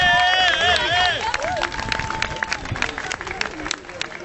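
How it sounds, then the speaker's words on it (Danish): A concert audience claps and cheers after a band's set, with a few whistles and shouts at first, then scattered clapping continuing at a moderate distance. "Jeg hører, de klapper af."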